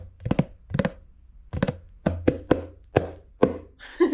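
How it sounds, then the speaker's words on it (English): Several dull, hollow hand drum hits, some in quick pairs, close and fairly loud with short decays and gaps between. "a drum."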